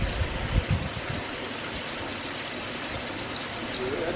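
Water pours over the edge of a small pond bowl and drops into the basin below, a continuous close trickling splash with a few louder splashes near the start.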